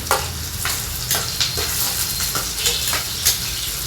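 Chopped onion frying in hot oil in a pan for a green moong dish, a loud continuous sizzle with sharp crackles and spatters recurring throughout, no talk.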